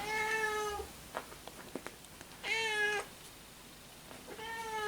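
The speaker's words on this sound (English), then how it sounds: "That's my big cat coming to say hello." A large house cat meows close by, three drawn-out tonal calls spaced about two seconds apart, with soft clicks and small indoor noises in between and no talking.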